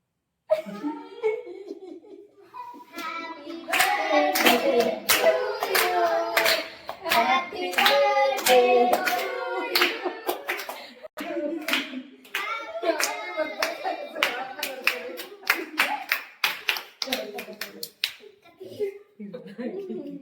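A group bursts into lively clapping to greet a girl at a surprise birthday party, with bursts of sharp claps rising and falling amid children's chatter, laughter and excited voices.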